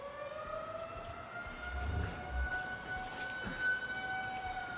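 Sirens wail in Sniper Ghost Warrior Contracts, several steady rising and falling tones layered over a dense game background, with a few dull thuds in the middle.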